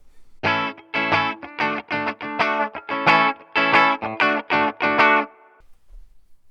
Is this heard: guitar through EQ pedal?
yes